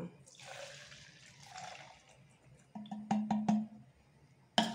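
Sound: pouring 350 ml of 92 alcohol or ethanol

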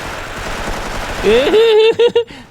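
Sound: gunfire in Special Force M Remastered mobile FPS video game

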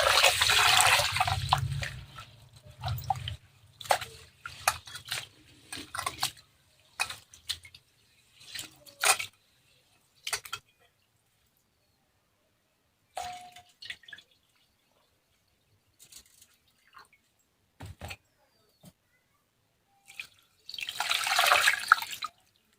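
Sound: rinsing rice with water

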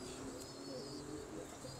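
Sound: pigeons cooing

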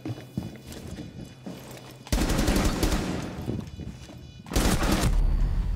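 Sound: gunshot in Rainbow Six Siege video game

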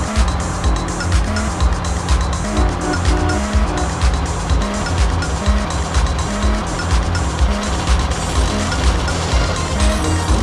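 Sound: car engine and tires in video game Grand Theft Auto: San Andreas

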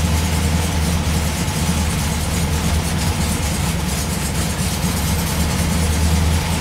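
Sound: 1967 VW bus engine idling after cold start

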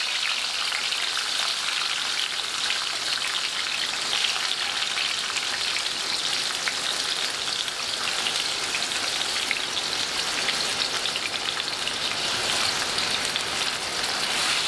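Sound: tomatoes and peppers frying in oil in a pan

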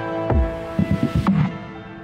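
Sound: drum samples in final mix, FL Studio

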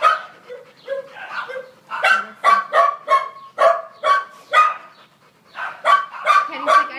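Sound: dog Katty barking

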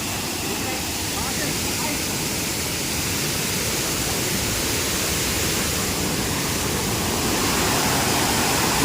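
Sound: waterfall

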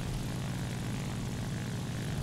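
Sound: La-5FN propeller plane engine in the video game War Thunder

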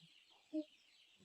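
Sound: roosters crowing

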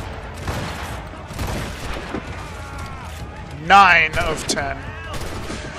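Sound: ship cannon shots in Assassin's Creed Rogue video game

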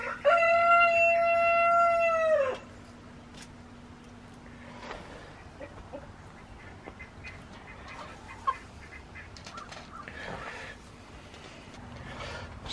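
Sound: broody hen disturbed in a nest box

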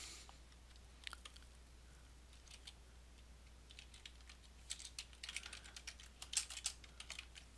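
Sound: typing a title on a computer keyboard

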